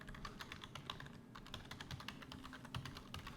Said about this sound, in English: I keep forgetting that I can actually type here.